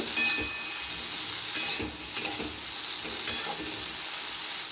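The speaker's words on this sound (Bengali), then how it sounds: "তার মধ্যে আমি ডাঁটাগুলো দিয়ে দিচ্ছি ডাঁটাগুলো একটু ভেজে নেব" Pumpkin stalks fry in a pan with a steady sizzling hiss, broken by a few sharp clicks and scrapes of stirring, heard up close with no talking.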